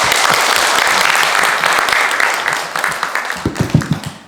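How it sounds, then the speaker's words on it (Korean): A lecture audience applauds, a dense loud round of clapping that holds steady and then thins into scattered individual claps before fading out. "젊은이들이 우리나라 구하도록 부탁하는 박수 한번 치고"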